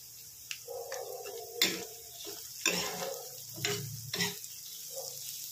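Bitter gourd with turmeric is tossed in a frying pan over gentle heat, giving several quiet, uneven scraping and clattering bursts over a soft sizzle.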